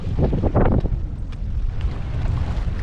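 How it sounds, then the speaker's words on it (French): Strong wind buffets the microphone on the seafront at Zadar, Croatia, a loud, continuous roar with heavier gusts in the first second, then steady rushing. "Il y a un peu de vent"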